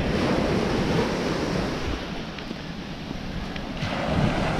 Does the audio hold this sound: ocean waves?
yes